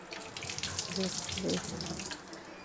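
Water runs steadily from a kitchen sink tap while something is washed, a continuous close splashing rush with slight shifts as hands move through the stream.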